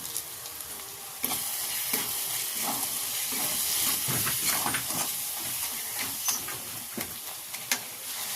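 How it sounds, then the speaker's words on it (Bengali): Turmeric, chili powder and Kashmiri red chili powder sizzling loudly in hot oil for Bengali potato curry with peas, a steady close hiss broken by scraping stirs, with no talking. "1 চামচ হলুদ গুঁড়ো, 1 চামচ লঙ্কা গুঁড়ো, 1 চামচ কাশ্মীরি লাল লঙ্কা গুঁড়ো। এই সবগুলো আমি ভালো করে মিশিয়ে নেব।"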